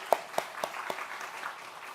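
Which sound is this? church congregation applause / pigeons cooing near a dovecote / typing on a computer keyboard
church congregation applause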